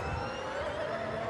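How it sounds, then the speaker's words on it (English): Hybrid prototype race cars pull away during qualifying at the Rolex 24 at Daytona, giving a rising electric whine over a dense, steady engine roar. "The little whizzy brr. So that is the takeoff from the hybrid cars"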